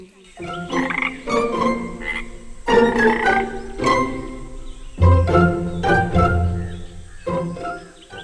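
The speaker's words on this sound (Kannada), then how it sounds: "ಅಲ್ಲಿ ಪಕ್ಕದಲ್ಲಿ ಒಂದು ಕೊಳದಲ್ಲಿ ಹಲವಾರು ಕಪ್ಪೆಗಳು ಬದುಕ್ತಾ ಇದ್ವು." Cartoon-style frog croaks from a pond, a run of loud, resonant croaking calls in uneven bursts with short gaps, close and clear with no talking.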